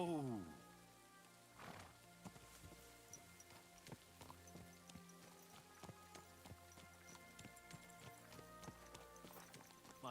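Horse hooves clip-clop in the video game Kingdom Come: Deliverance II, a steady, fairly close run of hoofbeats with a rain-like patter underneath.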